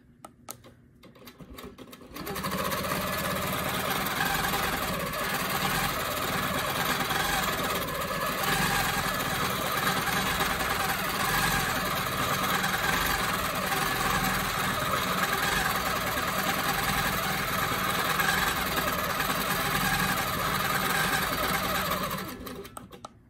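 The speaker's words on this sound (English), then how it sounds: "let's go ahead and I'm going to go ahead and quilt some more of these" Domestic sewing machine running steadily during free-motion quilting of a ribbon candy pattern, a continuous close mechanical whir with a fast needle rhythm that starts after a brief quiet moment and holds at an even level to the end.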